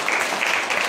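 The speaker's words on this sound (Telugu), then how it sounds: "గట్టిగా చప్పట్లు కొడదామా?" Congregation at a Sunday worship service bursting into loud applause, a dense, steady wash of many hands clapping together close by for a brief moment.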